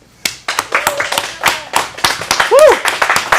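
Close, loud clapping from a small audience at an adult acting studio showcase in Phoenix, sharp individual claps in an uneven rhythm with a whoop and voices cutting through.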